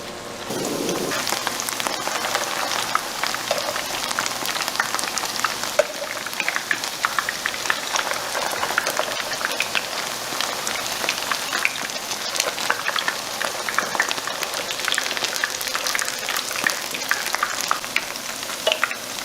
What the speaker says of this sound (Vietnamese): Khi dầu đã nóng thì mình cho từng viên chả vào chiên.